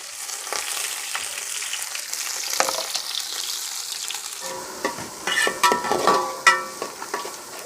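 Garlic, shallots, ginger, green chili and curry leaves fry in oil with a soft, steady sizzle. Louder scraping and stirring bursts come near the end, close up with no voices.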